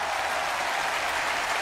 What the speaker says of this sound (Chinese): 把掌声送给小段